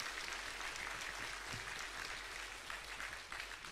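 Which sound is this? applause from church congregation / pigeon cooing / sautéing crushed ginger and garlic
applause from church congregation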